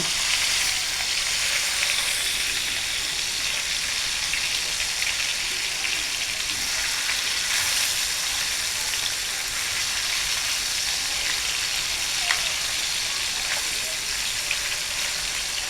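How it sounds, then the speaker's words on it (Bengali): Chital fish sizzles steadily in hot oil in a pan as it is turned from side to side, a continuous close frying hiss with faint clinks, no talking. "এখানে হালকা হালকা করে এপাশ ওপাশ করে ভেজে নিব"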